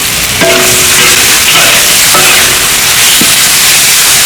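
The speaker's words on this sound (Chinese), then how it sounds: "稍微炒烫一下，因为这个羊肉里面还有点水分。" Lamb stir-frying in a wok with scallion and ginger gives a loud, continuous sizzle, with a few metallic scrapes and clanks of the spatula.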